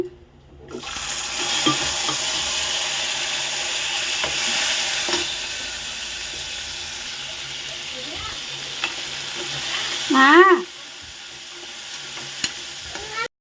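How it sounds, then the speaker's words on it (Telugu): Chickpeas and curry leaves crackle and sizzle steadily in hot oil for a tempering, a loud, close, continuous frying hiss with occasional stirring scrapes and no talk. "కరివే వేగిపోయింది కదా ఇంకా శనగలు తాలింపు అనమాట"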